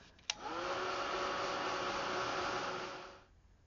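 A hair dryer blows steadily across a mixed media steampunk wood panel to dry paint layers, a loud continuous whoosh that starts with a click and runs for about three seconds before cutting off.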